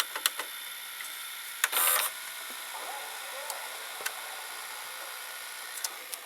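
A JVC HR-D400U or HR-D142U VCR's capstan motor and tape mechanism running in slow motion, heard up close as a steady soft mechanical whir with faint ticks and one brief louder buzzing burst.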